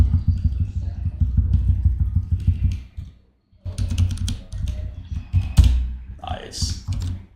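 Rapid computer keyboard typing while working in an Excel spreadsheet, close and fairly loud, with a brief pause midway before the keystrokes resume and a voice speaks over the end.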